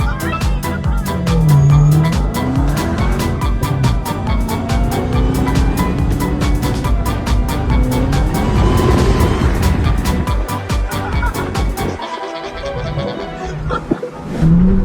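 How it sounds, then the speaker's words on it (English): A car fleeing police in a high-speed chase, engine roaring and revving with tire and road noise throughout, loud and close, ending with a sudden drop and scattered bursts. "This driver chooses to flee from the cops, leading to an intense high-speed chase"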